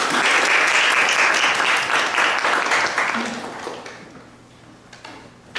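An audience applauds to welcome a speaker at an academic talk, steady loud clapping from many hands that gradually thins and fades out, with a few scattered claps at the end.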